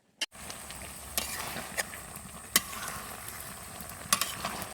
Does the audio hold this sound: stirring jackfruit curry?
yes